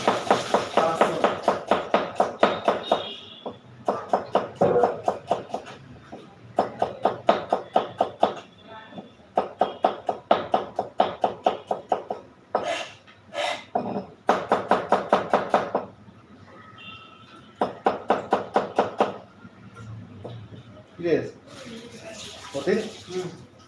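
Small potatoes are chopped with a knife on a board in quick rhythmic bursts of sharp taps, broken by short pauses, close and loud, with people talking now and then.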